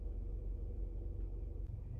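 A used SUV's engine idles steadily after a push-button start, a low, continuous rumble that is close and fairly loud and carries on alone without talk.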